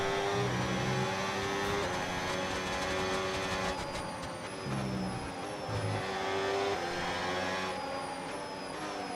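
Race car engine in the F1 26 video game, a steady high-pitched whine with rising and falling gear shifts, loud and continuous throughout, with no talk over it.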